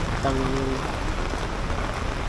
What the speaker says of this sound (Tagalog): Daming lakas ulan. Lakas talaga eh.